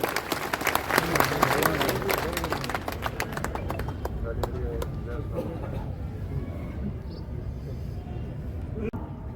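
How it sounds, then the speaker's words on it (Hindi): A crowd at a political party office inauguration breaks into dense, sustained applause that gradually thins and fades, with a voice talking over the clapping. "आप भी जोरदार उनके लिए तालियां बजाएं"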